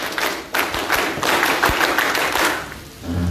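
A group performs the rhythmic Indonesian scout clap, tepuk pramuka, as a series of quick, loud, closely spaced claps and taps that run for about three seconds before fading briefly.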